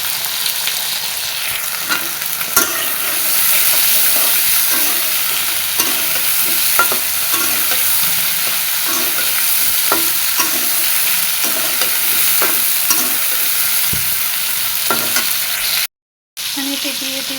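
Food seasoned with salt and turmeric fries in a hot pan, a steady loud sizzle running throughout, with a spatula scraping and stirring at irregular intervals, then a brief cut to silence near the end.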